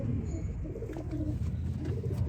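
A pure white male Sialkoti pigeon cooing in a low, soft, murmuring rumble, close by, over a short stretch.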